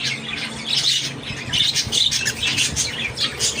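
Pet birds squawking and scuffling as they fight, a busy stream of harsh shrill calls and chirps with flapping, close and continuous.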